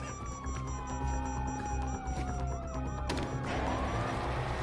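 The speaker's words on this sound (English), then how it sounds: "You hear that? Sirens." Wailing police sirens rise and fall over a loud, dense mix of rumbling engines and chaotic noise, with sweeping tones crossing each other throughout, in the Grand Theft Auto V prologue mission on PC.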